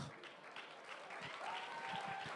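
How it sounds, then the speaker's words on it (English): Quiet crowd applause rises at a climate action expo, faint and steady, with a voice calling out over it and a brief whistle-like tone in the middle. "Can we have a bigger round of applause for that boy, Randy Mack?"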